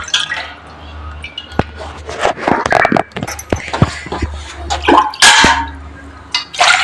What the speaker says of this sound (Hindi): जब तक चाय उबलेगी तब तक मैं बर्तन बाहर वाले हैं वो साफ कर लूंगी